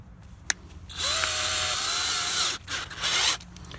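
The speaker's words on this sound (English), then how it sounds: "Punch a couple of holes on the divot marks that we made, and I'll do that right now." A tool punches pilot holes into sheet metal at marked divot points during ignition-box mounting fabrication, giving a sharp click followed by a sustained loud, high-pitched grinding whir of about two seconds, then a second shorter burst.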